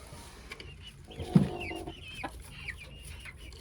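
Backyard chickens cluck softly inside a new coop where a broody hen sits, with a brief louder cluck near the middle over a quiet, steady background.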